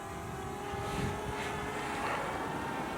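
A DJI Mavic Mini drone lifts off and flies away across a valley on a windy day. Its rotor whine holds steady under faint wind noise at moderate, fairly close range.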